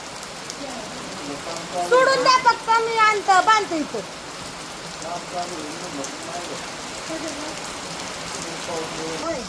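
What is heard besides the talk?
heavy rain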